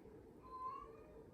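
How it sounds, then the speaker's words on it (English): A single short cat meow, faint and thin, heard indoors against quiet room tone, with no talking. "There's my cat."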